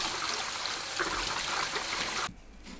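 Cucumbers rinsed under running tap water give a steady, close splashing trickle that stops abruptly near the end, leaving a quiet room.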